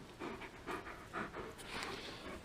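A dog pants in quick, rhythmic bursts of breath close by, the short huffs repeating steadily throughout with no talking.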